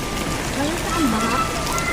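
Steady rainfall hisses across the whole clip in a constant broadband wash during flooding on EDSA, with a voice talking faintly underneath.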